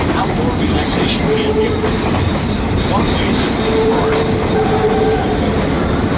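A Verde Canyon Railroad train in Arizona rumbles steadily through a tunnel, loud and continuous, with faint screeching wheel tones rising now and then above the roar.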